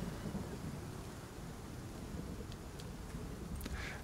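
In the survival video game Icarus, thunder from an approaching storm rumbles low and continuously under steady rain-like hiss, with a few faint crackles near the end and no voices.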